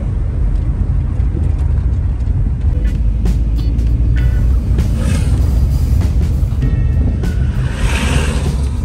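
A car drives along a rough mountain road from Chitral toward Thal in Kumrat Valley, heard from inside as a loud, constant low rumble of engine and tyres with occasional knocks and rattles.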